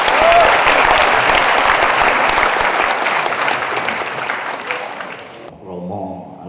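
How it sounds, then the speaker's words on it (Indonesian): Dense, loud audience applause for Gus Dur at a Sido Muncul gathering with Gus Mus fills the hall, holding steady and then cutting off abruptly near the end, leaving quieter murmuring and a faint voice. "Kita beri tepuk tangan untuk Gus Dur."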